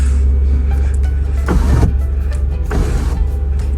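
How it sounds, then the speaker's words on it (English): An electric sunroof motor on a 2012 Toyota Sienna Sport Edition minivan whirs in two short bursts over a steady low cabin hum, close and fairly loud. "you can also use this button here to open the sunroof"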